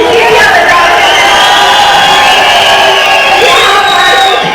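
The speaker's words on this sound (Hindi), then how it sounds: "जिनकी तालियां बजा रहे हैं, जिनकी सीटियां बजा रहे हैं" A large crowd at a political rally in Dharamshala, Himachal Pradesh, roars loudly and continuously, with whistles and shouted cheers rising over the dense noise.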